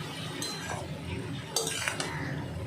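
Vegetables seasoned with salt and turmeric being stirred and mixed in a pan, a few scraping clinks of a utensil against metal over a low steady background, moderately close.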